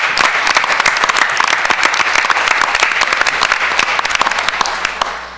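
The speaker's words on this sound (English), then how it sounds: "How about we give one more round of applause for all of our educators and educational service professionals of the year." Attendees at a Hoboken Board of Education meeting give a loud, close round of applause for educators, many hands clapping steadily for several seconds before tapering off.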